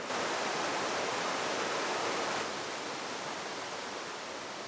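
River water flowing in a continuous loud rushing wash, steady throughout and easing slightly in the second half, with no voices.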